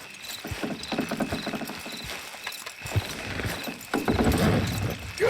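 Horses pulling a load in Red Dead Redemption 2, hooves clip-clopping in a steady rhythm alongside creaking and straining mechanical noise, with a whinny, fairly close and moderately loud.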